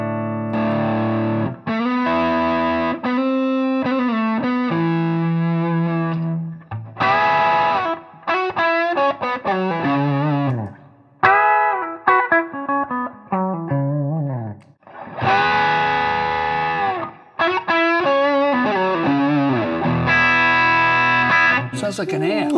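A PRS HDRX amp head plays throaty distorted electric guitar in the manner of an old Marshall, with loud chords and sustained notes in bursts separated by short pauses.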